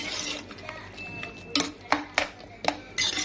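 Ginger garlic paste stirred in a pan, with a quiet background and several sharp metallic clinks and scrapes of a spoon against the vessel, growing more frequent toward the end.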